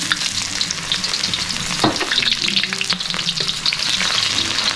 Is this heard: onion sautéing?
yes